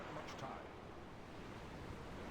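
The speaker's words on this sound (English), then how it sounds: "Why does it sound like there's an ocean next to me?" Ocean waves in World of Warcraft wash as a soft, continuous surf hiss at low level, steady with no distinct breaks.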